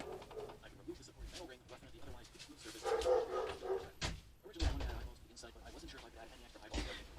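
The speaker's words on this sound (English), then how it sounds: "sorry my dog's barking." A dog barks a few times at a distance, soft and intermittent, while a person talks over it.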